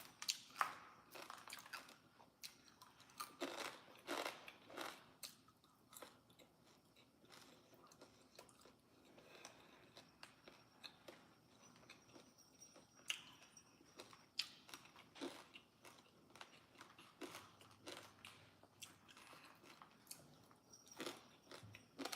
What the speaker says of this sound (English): Well, I'm eating the burnt part.